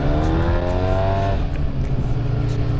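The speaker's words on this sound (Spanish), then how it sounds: "Entonces van a escucharlo cómo revoluciona." Scooter with a full Akrapovic exhaust line revving on a Madrid route, a loud close engine note climbing and then settling into a rough, steady drone.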